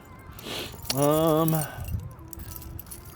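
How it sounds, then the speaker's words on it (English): A bunch of too many keys jangles and clinks close by, just after getting out of a car on an icy day. The clinking comes in a short cluster around a brief voiced sound. "Llaves, too many keys."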